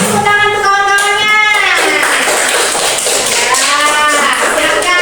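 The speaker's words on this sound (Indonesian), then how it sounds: "terima kasih tepuk tangan untuk kawan-kawannya" Schoolchildren in a classroom clapping their hands, quick sharp claps mixed with loud, high children's voices calling out together, close and lively throughout.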